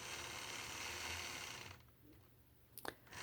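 Sewing machine quilting curved point-to-point lines across a quilt block, running as a steady close mechanical whir for under two seconds before stopping, followed by a quieter stretch with a couple of brief clicks.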